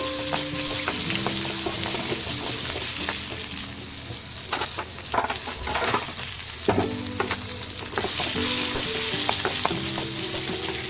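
Onions sizzle loudly in a hot pan while a utensil scrapes and stirs them in irregular strokes, steady frying throughout.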